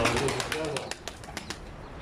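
Tumbler pigeons flying overhead, soft repeated wing flaps and a few pigeon coos in a fairly quiet outdoor setting, with a voice briefly audible.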